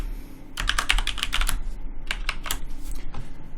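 A password typed on a computer keyboard, quick close bursts of crisp key clicks in two flurries with brief pauses, over a quiet room hum.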